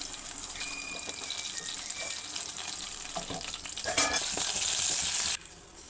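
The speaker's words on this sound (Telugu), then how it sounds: "1 స్పూను ఆవాలు, 1 స్పూను ఎండుమిర్చి, కరివేపాకు" Mustard seeds, dried red chillies and curry leaves sizzle and spatter in hot tempering oil for radish chutney, a close, dense frying hiss with stirring scrapes that swells loudly near the end before cutting off.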